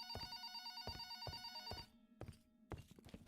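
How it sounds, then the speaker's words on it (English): A telephone on a kitchen counter rings in repeated bursts of bell tones, loud and close, with a short pause before another ring begins. "the phone on the counter rang."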